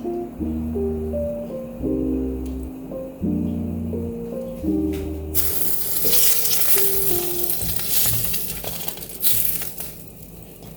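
A grilled cheese sandwich fries in butter in a pan, sizzling loudly and steadily close up while a low musical background plays for the first half, with a few scrapes of a hot spatula.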